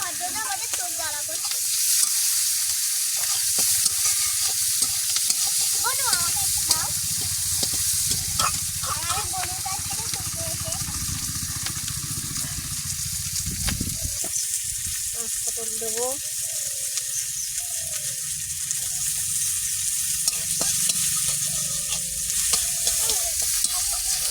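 Chillies frying in a pan for a home-style Bengali fish curry with brinjal, a loud continuous sizzle with repeated scraping stirs, close up, while someone talks intermittently over it.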